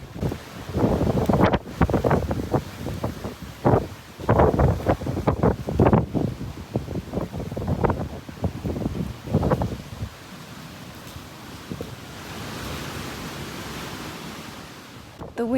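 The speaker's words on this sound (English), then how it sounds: "The wind is getting stronger," Strong Hurricane Ian winds roaring around a home in Cape Coral, Florida, loud and gusting in dense surges for about ten seconds before easing into a steadier, softer rush.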